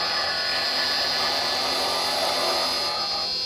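Skew chisel cutting a spinning wood blank on a lathe, a steady close hiss and scrape of the cut running unbroken for a few seconds without any speech.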